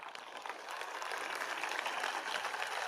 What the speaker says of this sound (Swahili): Makofi mazuri kabisa mwanafunzi huyu.